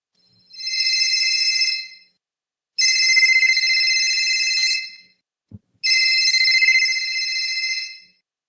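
A phone rings three times in long electronic trills separated by pauses, loud and clear, with a short click between the second and third rings and no talk.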